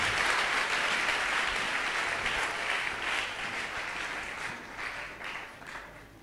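A church congregation applauds during a Sunday worship service, sustained dense clapping that fills the room and slowly tapers off over several seconds, with no talking over it.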